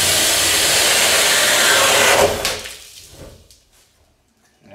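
A power drill with a Craftsman knob bore kit cuts a hole through a hollow-core door slab, giving a loud grinding whir for about two seconds. It then cuts off and winds down into near silence.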